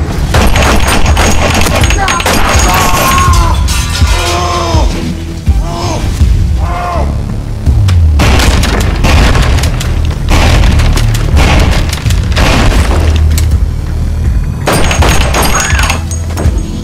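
Gunfire and explosions from a shootout in a film's finale, with heavy booms, thuds and bursts of shots landing repeatedly in a dense, loud mix while voices speak and music plays throughout.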